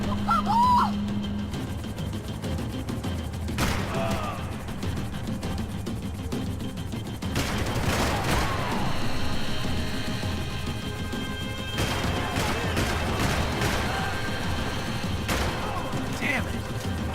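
Scattered gunshots and crashing impacts while shooting at a helicopter in Max Payne 3, mixed with urgent shouted voices and busy action noise throughout.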